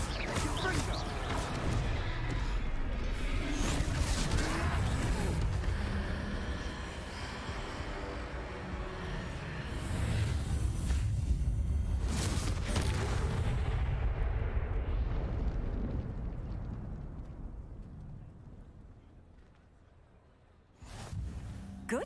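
A fiery Confringo spell blasts during a troll fight in the wizard game Hogwarts Legacy, heard as sustained roaring explosive rumble that swells, fades and flares again, loud and dense with game voices underneath.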